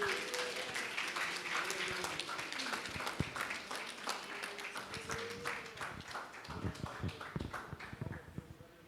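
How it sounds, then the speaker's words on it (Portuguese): A church congregation claps during a worship service, a dense, fairly loud run of rapid hand claps that gradually thins and fades toward the end. "as palmas louvam e adoram o nome santo do Senhor"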